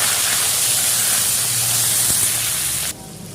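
Potatoes frying in hot oil in a wok, a loud, close, rushing sizzle that holds steady and then drops suddenly to a softer hiss.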